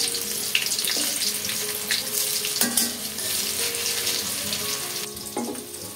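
Food fries in oil in a pan with a loud, continuous sizzle and crackle close by, broken by a few knocks and scrapes of stirring.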